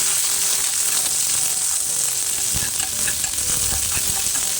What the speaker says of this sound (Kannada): ನೆಕ್ಸ್ಟ್ ಇದನ್ನು ಚೆನ್ನಾಗಿ ಫ್ರೈ ಮಾಡಿದ ಮೇಲೆ ನಿಮಗೆ ಗೊತ್ತಾಗುತ್ತೆ ಈರುಳ್ಳಿ ಟ್ರಾನ್ಸ್ಪರೆಂಟ್ ಆಗುತ್ತೆ